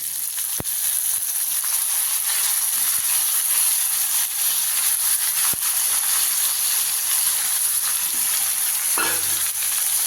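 Marinated prawns sizzling in a ginger-garlic gravy in a hot pan, a steady, even hiss of frying with occasional faint clicks and a brief stir near the end.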